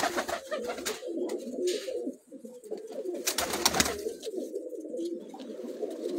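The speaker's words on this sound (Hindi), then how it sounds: "ये जी सिकंदर भाई का बड़ा कबूतर है माशाल्लाह" Sikander's big pigeon cooing on a rooftop loft in Kala Bagh, close and steady: a continuous throaty rolling coo with a few brief rustling bursts over it.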